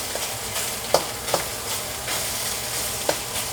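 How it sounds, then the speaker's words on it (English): Beef stir frying in a small wok, a continuous close hiss of sizzling oil with periodic scraping and clinking accents as the meat is tossed and spread around, no talk. "You got to spread the beef around the wok."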